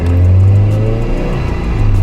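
A supercharged Subaru BRZ with an HKS GT2 supercharger revs up close, a loud steady engine rumble with a faint rising whine over about two seconds.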